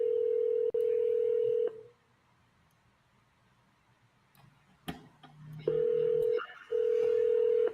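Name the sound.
telephone being dialed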